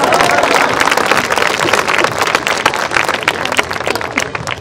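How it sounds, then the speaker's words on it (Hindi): A large crowd at a Chhattisgarhi comedy poetry show by Dr. Surendra Dubey breaks into loud, sustained applause, a thick wash of many hands clapping that fades slightly toward the end. "ताली बजाओ, सांस लेना है"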